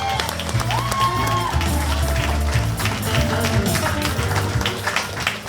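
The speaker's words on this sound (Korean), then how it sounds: "여러분 뜨거운 박수 부탁드리겠습니다" An audience applauds at the opening of an election campaign office, with dense, sustained clapping over crowd murmur and a low hum, steady and close throughout.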